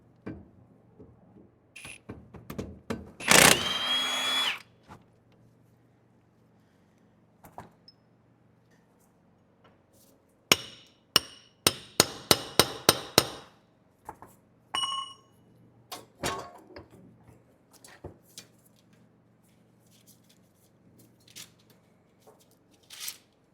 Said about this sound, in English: I'm going to use a hammer and give it a couple taps on the back side of the axle